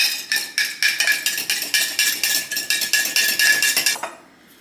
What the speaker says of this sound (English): I'm just gonna stir this up